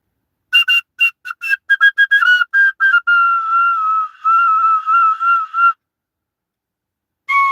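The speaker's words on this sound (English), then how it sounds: "I bought some cheap plastic flutes or whistles or record" A cheap plastic recorder-style whistle is blown close up, first in quick short toots, then in longer wavering held notes, before a brief final blast after a pause.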